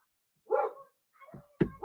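A dog barks indoors with a few short, moderately near woofs separated by brief pauses, standing alone without talk.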